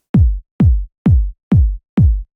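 Five evenly spaced tech house kick drum hits with no EQ applied, each a punchy, deep, booming thump with a quick decaying tail, played alone and loud at a steady tempo.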